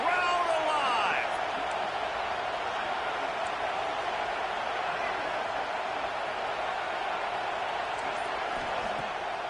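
Dense, steady stadium crowd roar fills a red-zone third-down play in the NCAA 26 college football video game, loud and continuous throughout with no breaks.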